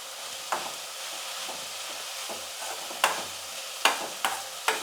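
Onions and tomato sautéing in a pan on low heat, a faint steady sizzle punctuated by several sharp spoon scrapes and clacks, growing more frequent toward the end, with no talking.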